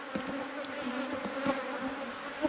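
Honey bees working over a hive frame buzz in a steady, close drone with faint wingbeat flutters and a few sharper passes near the end, no talking.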